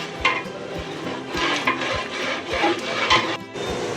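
Ambur biryani being cooked in a large pot, with oil frying and sizzling steadily while a utensil scrapes and stirs in repeated rhythmic strokes, close and moderately loud.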